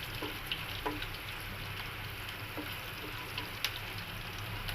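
Garlic frying in oil in a pan for Indian potato sabji gives off a steady, soft sizzle and crackle with occasional small pops, close and moderately quiet, without any talking.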